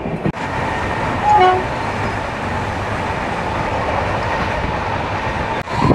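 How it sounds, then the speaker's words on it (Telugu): The Sircar Express, a train running from Chengalpattu to Kacheguda, rumbles past at speed, a loud continuous roar of wheels and wagons with a brief horn toot near the start and no talking. "లెజెండరీ సర్కార్ ఎక్స్ప్రెస్ అండి."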